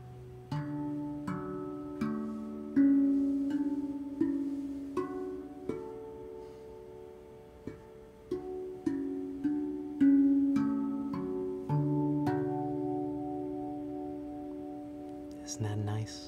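Steel tongue drum played note by note across its scale, each soft struck tone ringing on with a long sustain, about a dozen hits at an unhurried, even pace, close and clear with no talking.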